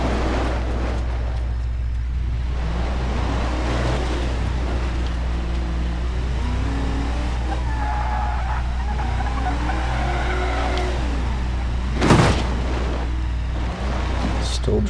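A damaged Ford Crown Victoria with its muffler barely hanging on drives steadily in BeamNG.drive, a continuous low engine drone throughout with shifting tire noise and a brief sharp scrape or knock near the end.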